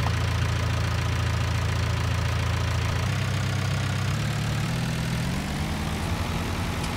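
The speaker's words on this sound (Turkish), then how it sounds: "Ben bir yalgazını açayım traktörü." A Massey Ferguson 277G tractor engine runs loud and close, revving toward 1800 rpm, its low rumble shifting upward in steps as it revs higher.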